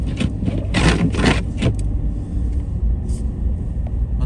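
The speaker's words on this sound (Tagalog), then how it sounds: "itong pick-up truck na gamit ko" Pickup truck driving on a slippery, icy road in Edmonton, Alberta, a low continuous engine and road rumble close up, with a few brief rattling bursts early on.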